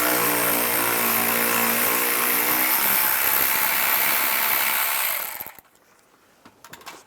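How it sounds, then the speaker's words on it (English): A 10mm ratchet wrench loosens a bolt inside the wheel well of a 2007-2013 Chevrolet Silverado 1500, giving a dense, steady run of fast clicking that cuts off after about five seconds, followed by a few faint taps. "You can access this bolt right here using a 10mm ratchet wrench."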